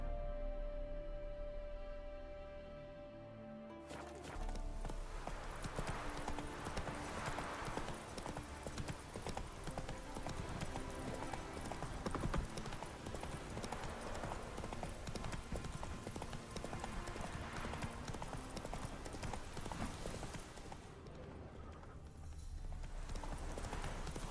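Horse hooves clip-clopping in The Witcher 3 video game, a steady rhythmic trot with game ambience, fairly quiet and continuous, with a voice urging the horse on briefly at the start.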